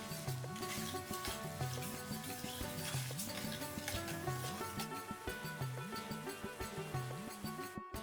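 Mustard pabda fish curry with sweetened sour yogurt stirred and cooking in a pan, a steady sizzle with rhythmic scraping strokes repeating about once a second, close and continuous without talk.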